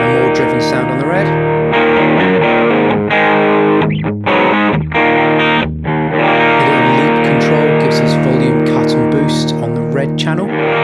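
An electric guitar plays through the driven red channel of an NRG Purrer dual-channel overdrive pedal, giving thick, sustained distorted chords with a few brief pauses, loud and continuous with no talking.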